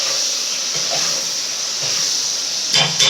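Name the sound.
okra and whole garlic sautéing in a pan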